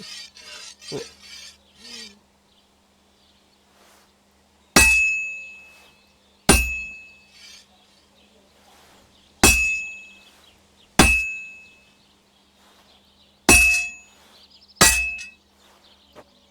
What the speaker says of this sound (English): Now take the hammer and try hitting it a few times.